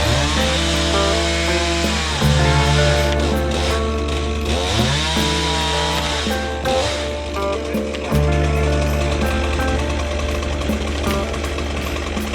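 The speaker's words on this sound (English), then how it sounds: "So I'm going to cut a little bit of a relief in the hinge." Chainsaw cutting a relief into the hinge of a rotten aspen tree during a removal, the engine running loud and steady close by with pitch dips as the bar bites into the wood, alone with no talk.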